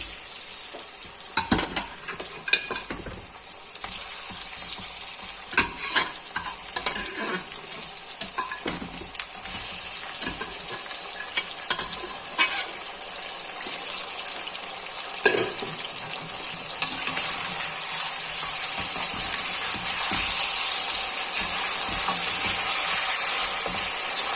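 Mutton fries in oil in a karahi with a continuous crackling sizzle that grows louder and denser toward the end, broken by occasional utensil clicks and scrapes up close.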